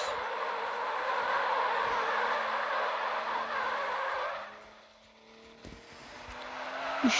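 A car drifts in a crash simulator game, with a sustained engine drone and tyre noise over a bumpy track that fades out near the end, then a few sharp knocks.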